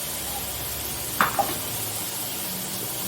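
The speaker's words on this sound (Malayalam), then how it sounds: "നമുക്കിനി ഇതിനകത്തോട്ട് ക്യാരറ്റ് കൂടെ ഒന്ന് മൂപ്പിച്ചെടുക്കാം." Carrot sautéing with onions in a pan gives a steady soft sizzle and hiss, broken by a brief clink of a utensil against the pan partway through.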